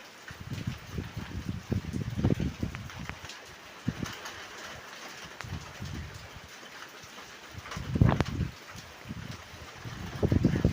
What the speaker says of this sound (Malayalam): അതിശക്തമായ കാറ്റ് ഇതുവരെയും തുടർന്നുകൊണ്ടിരിക്കുകയാണ്.